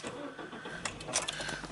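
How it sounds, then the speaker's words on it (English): A Nissan Qashqai with a manual gearbox started with the key: a brief whirring crank, then the engine catches and settles into a steady idle, heard close from inside the car with nobody talking. "Let's pop the key in and get the car started."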